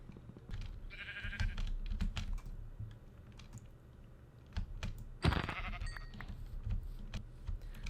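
Sheep bleat faintly in Minecraft, with a few short blips of the animal call standing out among the game sounds.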